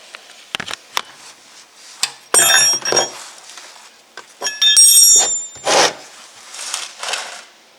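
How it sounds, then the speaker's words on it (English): A 17mm wrench works on the oil drain plug of a Hyundai Santa Fe, giving metallic clinks, ratcheting scrapes and rubbing sounds in short, irregular bursts, close and fairly loud. "got the 17mm on the drain plug, and we'll loosen it up"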